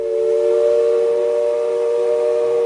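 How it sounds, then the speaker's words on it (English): A loud, steady whistle from the Mark Twain steamboat at Disneyland blows one long continuous tone, sounding close and unbroken throughout. "It's the sound of the Mark Twain's whistle."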